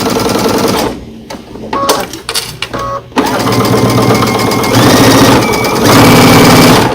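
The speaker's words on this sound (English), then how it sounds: "We're just sewing a straight seam down here." A sewing machine stitches a straight seam through quilt blocks, a loud, close mechanical whir with a brief stuttering pause early on before it resumes running steadily to the end.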